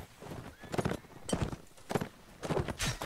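Horse hooves clatter in a Mount and Blade: Napoleonic Wars line battle, loud rhythmic clip-clop beats in quick groups, like a horse charging close by.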